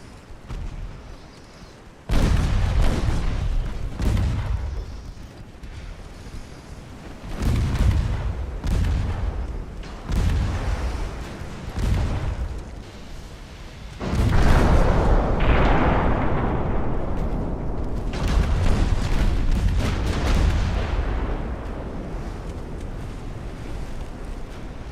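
Warship guns fire in a naval battle in Ultimate Admiral: Dreadnoughts, set in 1890. The deep booms come as repeated, separated blasts over a steady roar of wind and sea, with one heavier salvo partway through.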